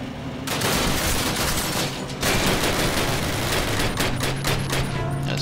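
Sustained rapid gunfire from a player's secondary weapon in Call of Duty, dense and loud, continuing almost without pause apart from a short break partway through.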